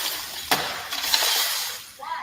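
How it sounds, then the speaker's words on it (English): A man smashes glass panels at bus stops outdoors, with a sharp shattering crack followed by tinkling fragments and a few further smaller clinks, while a person speaks in the background. "7 News witnessed a man smashing the glass at bus stops."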